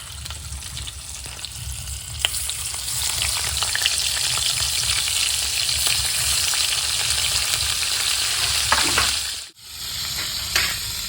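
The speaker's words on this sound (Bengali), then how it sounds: "মাছ ভাজার জন্য গরম হয়ে গেছে মাছটা দিয়ে দিচ্ছি" Small fish (chara pona) fry in a wok, producing a loud, steady, close sizzle with scattered pops and crackles that fades sharply near the end before resuming briefly.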